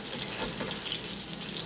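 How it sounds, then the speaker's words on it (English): Fish cakes sizzle steadily in a frying pan, a dense, even crackle of hot oil throughout with no pauses and no voices. "And we just wanna fry them, so we're using our little spatula here."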